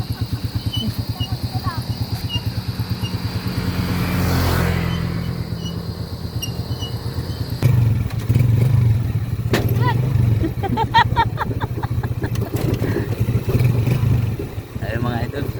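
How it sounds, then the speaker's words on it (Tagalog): A motorcycle engine labours and strains uphill on a steep road, a loud, continuous rumbling drone with rattling, overlaid by the rider talking throughout. "Hindi na makaakyat ang motor."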